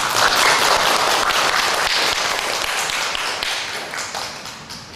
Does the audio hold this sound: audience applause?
yes